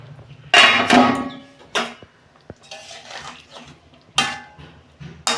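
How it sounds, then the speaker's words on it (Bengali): A metal lid lifts off a cooking pot of Bengali fish curry with sharp clanks and rattles, several distinct metallic hits spaced out over a few seconds, close by in a home kitchen. "ঢাকনা খুলছি।"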